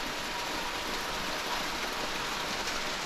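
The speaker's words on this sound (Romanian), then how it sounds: "Apa continuă să picure" Water drips steadily from the ceiling of a collapsed cave in Grand Snake Canyon, Oman, blending into a continuous, fairly faint broadband patter like light rain with no distinct single drops standing out.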